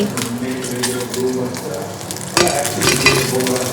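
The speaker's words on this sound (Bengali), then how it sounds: "আওয়াজটা বুঝতে পারছো কড়কড় করছে যে চিকেন" Chicken pakora deep-frying in hot oil, a loud, dense crackle and sizzle that swells sharply partway through, with no speech over it.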